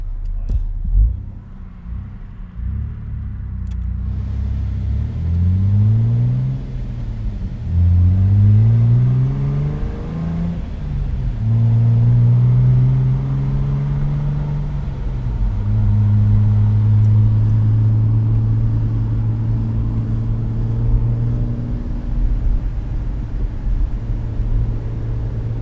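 A Jeep TJ with its muffler deleted, heard from inside while driving: a loud, raw engine drone that rises and falls through several revving pulls and gear changes, over a constant bed of tire and wind noise.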